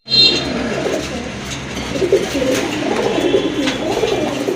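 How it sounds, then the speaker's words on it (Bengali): Large Chila pigeons cooing softly in a loft, low repeated coos under a constant background hum, with a brief sharper chirp at the start. "খুবই সুন্দর এক জোড়া চিলা কবুতর, অনেক বড় সাইজে কিন্তু কবুতরগুলো।"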